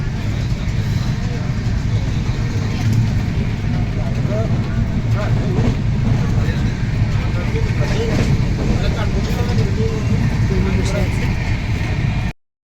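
A Janshatabdi Express train running from Muzaffarnagar towards Delhi, heard from inside as a steady, loud low rumble and rattle with rhythmic clatter, while people talk throughout.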